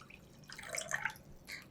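Water poured over washed basmati rice in a pot so it covers the grains fully for soaking, a soft trickling splash with bright dripping spatters, fairly faint and alone.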